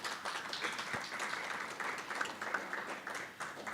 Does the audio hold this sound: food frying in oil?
no